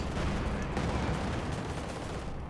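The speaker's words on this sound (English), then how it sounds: "CoH2 rocket launch for Esam" Rocket launcher fire in the World War II strategy game Company of Heroes 2, a dense, rumbling barrage of blasts and crackling explosions, steady and fairly loud throughout with no talking.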